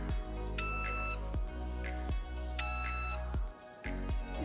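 Two short electronic beep tones from a GNSS survey receiver sound about two seconds apart over a steady hum with intermittent thumps, the beeps clear and moderately loud.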